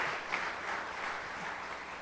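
A church congregation applauds, a soft, steady wash of clapping from many people, fairly distant and faint, sustained without a break and with no voices over it.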